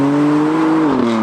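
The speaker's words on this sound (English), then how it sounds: "the standard exhaust really ain't that bad. It still crackles and pops, and it is quite noisy" The standard exhaust on a damaged BMW M4 gives a loud, close engine drone that holds steady, then dips slightly in pitch near the end.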